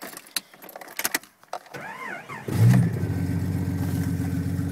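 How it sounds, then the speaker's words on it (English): A Jeep Grand Cherokee starts after its distributor cap was cleaned of debris: a brief whirring crank and keys rattling lead to the engine catching, then settling into a loud, steady idle close by. "Runs unreal now that I cleaned out the distributor cap and all the, what do you call it, debris that was in it."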